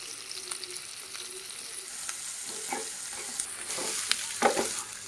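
Chicken frying in oil in a pan, a quiet continuous hiss and crackle with occasional louder pops and stirring, heard up close and alone.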